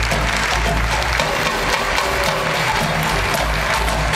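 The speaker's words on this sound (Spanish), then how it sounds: "Un aplauso para Leonisa, por favor, y un aplauso para ustedes." Dense, continuous clapping from an audience at a Leonisa show in Punta Cana, Dominican Republic, holding steady and loud throughout with a low hum beneath.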